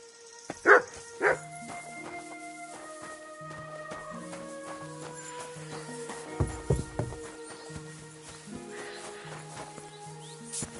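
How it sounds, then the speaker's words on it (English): A dog barks in the video game Kingdom Come: Deliverance 2, giving two sharp close barks early on and a few softer yips later over sustained musical tones and ambient game sounds. "You silly doggy."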